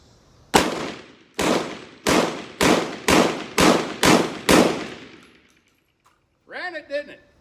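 Seven loud, sharp shotgun blasts from a Mossberg 930 semi-auto loaded with Winchester shells, fired in a quick, slightly uneven rhythm with a short ringing decay after each, then a brief pause and a voice.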